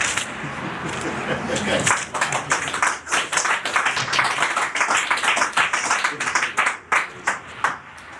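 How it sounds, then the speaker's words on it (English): An audience at an Afrikan poetry theatre open reading claps in a dense, uneven patter, the sharp hand strikes close and loud, while a performer's voice carries on over the top. "People clap. What you clapping for?"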